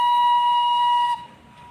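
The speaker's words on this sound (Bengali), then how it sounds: "ট্রেন টয় ট্রেন আসছে" A shrill, steady whistle blasts for about a second, then cuts off, leaving quiet outdoor background; the Darjeeling toy train drawing near at Batasia Loop.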